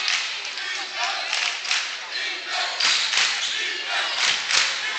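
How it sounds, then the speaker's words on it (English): A high school basketball crowd cheers and roars in a gym, loud sustained shouting and clapping that rises and falls in waves across the stretch. "Crowd back into it again."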